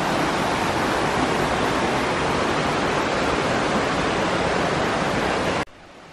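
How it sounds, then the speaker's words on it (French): A mountain torrent rushes through the ancient forest of Yakushima, sending out a loud, steady roar of water that continues without a break until it cuts off sharply near the end. "un torrent qui est absolument sublime"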